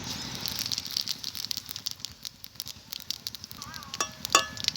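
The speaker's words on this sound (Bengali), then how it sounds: "ফোড়নের জন্য সর্ষের তেল দিয়ে দিচ্ছি। ফোড়নে দেবো গোটা জিরে" Whole cumin seeds spit and crackle in hot mustard oil in a home kitchen, a close, irregular burst of sizzling pops, with a brief metallic clink of a utensil near the end.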